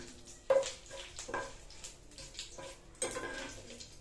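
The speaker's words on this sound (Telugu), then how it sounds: "కరివేపాకు మంచిగా వేగిపోయింది" Curry leaves and lentils sizzling in a tempering pan for a Telugu chutney: a faint, soft crackle with a few sharp clinks and scrapes of a utensil against the pan.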